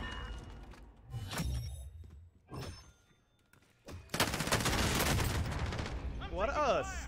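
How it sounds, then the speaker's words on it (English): Gunfire from a slow-firing weapon in Call of Duty, with a few separate heavy shots followed by a dense, loud burst of firing and game effects. "What a slow firing weapon."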